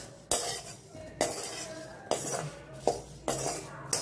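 A spoon scrapes and clinks around a pan while instant mango pickle is stirred, in about five evenly spaced strokes, each a distinct metallic scrape close up, with no talk.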